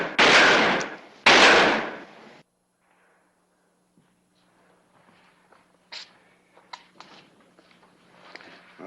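Two loud, sharp gunshot blasts strike a steel sheet at a frontier setting, each ringing briefly, followed by quiet, then faint rustling, footsteps and small metallic clinks.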